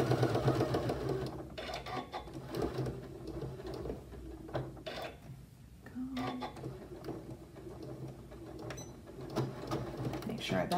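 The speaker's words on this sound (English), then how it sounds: "I'm gonna do one little angled stitch in each corner, just like that." A sewing machine runs in short whirring bursts while stitching angled seams in the corners of a fabric tray, close up, with a person talking over it.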